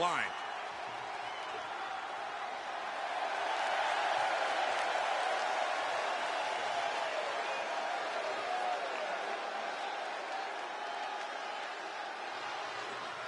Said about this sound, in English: Sellout crowd on their feet here at the Garden.